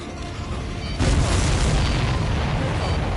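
A missile explosion in the aerial combat video game Ace Combat 7 bursts in as a loud, sustained boom about a second in, rumbling on over a steady background roar of jet noise.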